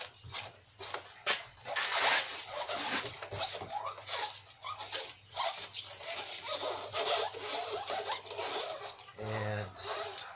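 Plasti dip rubber coating is peeled away in a run of soft, ragged tearing and rubbing bursts, close and fairly quiet, with a short voice near the end.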